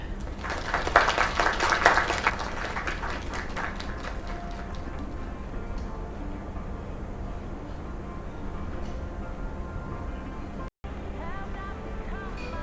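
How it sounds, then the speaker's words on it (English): An audience claps and applauds loudly for a couple of seconds after a live performance, then the applause fades into a quieter room murmur of background noise. "Another round of applause."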